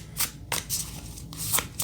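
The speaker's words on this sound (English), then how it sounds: "Let's shuffle a little more and see if any others come out." A deck of tarot cards is shuffled by hand in a quiet room, giving several quick papery riffles and flicks in an uneven rhythm, close and clear with no talking.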